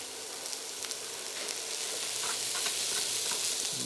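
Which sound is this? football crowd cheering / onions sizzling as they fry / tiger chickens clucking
onions sizzling as they fry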